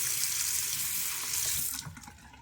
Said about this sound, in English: rinse it off under the sink